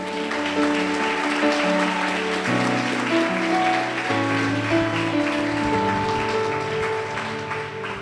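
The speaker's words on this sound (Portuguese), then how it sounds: "Aplaude o Senhor Jesus." A congregation at a youth congress church service claps steadily under sustained keyboard chords that shift in pitch, with the applause forming a continuous wash beneath the music.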